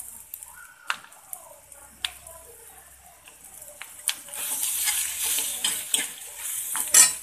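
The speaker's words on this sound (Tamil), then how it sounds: "அடுப்பை கம்மியாக வச்சு வறுக்குங்க மாதிரி வறுத்தெடுத்து வச்சு" Chicken for a spicy Chettinad gravy fries on low heat and is stirred in a pan: a few sharp utensil taps over quiet background at first, then a louder crackling sizzle swells toward the end.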